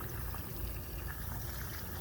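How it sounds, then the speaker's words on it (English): Water runs from a pipe into a newly dug retention pond with an overflow, making a faint, steady broadband rush that holds even throughout. "I want to make sure we got water coming out"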